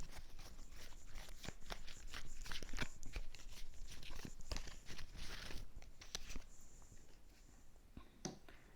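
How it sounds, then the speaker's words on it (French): Tarot cards being shuffled and laid out in a reading, with steady soft papery riffling and slapping that continues throughout, close and fairly quiet with no talk. "on va remettre des cartes sur les cartes."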